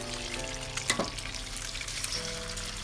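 Eggs sizzle and crackle in hot oil with a steady frying hiss and a brief stir or scrape partway through.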